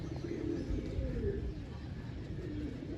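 Low, throaty pigeon cooing repeats steadily over a constant background hum, close by and fairly clear, with no talking.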